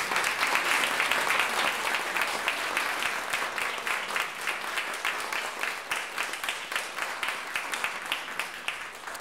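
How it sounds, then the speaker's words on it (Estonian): Steady applause from an audience at an Estonian hobby-school quality recognition ceremony, a dense even patter of many hands clapping throughout, moderately distant and with no talk over it. "Ja teemegi ühe ühise aplausi ka kõikidele nendele, kes täna siia ette ei mahtunud."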